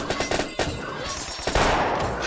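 Rapid gunfire from a sniper rifle and other weapons in the online shooter Metal Assault, sharp cracks in a quick burst followed by a couple of heavier shots, close and loud with no talking.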